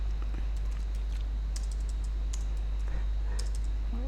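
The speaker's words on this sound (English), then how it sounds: "Why am I typing spread?" Computer keyboard typing while code is entered for a React text editor: a steady run of quick, close, crisp key clicks in a quiet room, with no talking.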